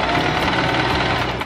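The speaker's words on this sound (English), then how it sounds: "And just sew it over here." Sewing machine stitching a hem on a Nike sock being made into a top, a steady, fast mechanical whir running continuously and fairly loud before stopping abruptly near the end.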